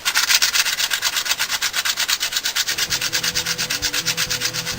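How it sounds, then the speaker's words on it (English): Sandpaper rubbed by hand over the corners and grooves of a custom knife handle, a steady back-and-forth rasping with a quick regular rhythm, close and fairly loud, with no talking. "and just take the corners off of everything, and then sandpaper in all the grooves just to finish them off"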